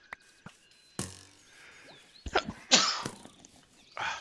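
A person sneezes once, sharp and loud, close to the microphone, amid quiet clicks and faint game sounds during Minecraft survival play.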